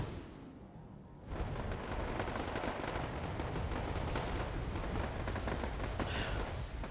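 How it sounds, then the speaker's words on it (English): Bomb dropped by a Nighthawk in the real-time strategy game Wargame: AirLand Battle, a heavy sustained rumbling explosion that swells up after a quieter opening and keeps roaring with crackling battlefield noise. "And dropping the bomb."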